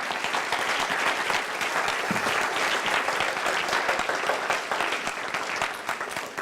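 A church congregation applauding during a sermon, with dense, sustained clapping from many hands that stays steady and full throughout.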